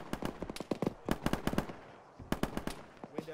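Automatic rifles firing in a military video game: sharp, distinct shots in quick rhythmic bursts, several clusters separated by short pauses, crisp and fairly close.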